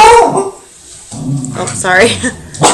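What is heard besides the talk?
dog barking at home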